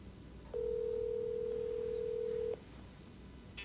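A single steady ringback tone from an outgoing phone call sounds for about two seconds, faint and alone against a low room hum, before cutting off.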